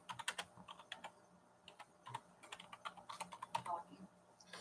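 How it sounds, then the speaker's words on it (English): Rapid clicking of keys on a computer keyboard, close and irregular, with bursts of quick keystrokes and brief pauses. "I'm in the middle of typing"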